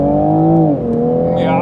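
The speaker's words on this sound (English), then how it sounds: "The exhaust sounds great." A Toyota Supra's exhaust roars during a performance test, a loud, smooth engine note that holds steady, then drops in pitch as the car shifts.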